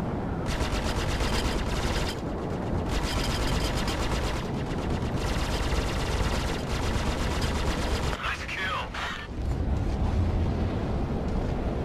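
Missiles launch amid continuous rapid gunfire and explosions in the space combat game Star Citizen, a loud, dense barrage running throughout with a brief lull near the eighth second, and voices talking over it.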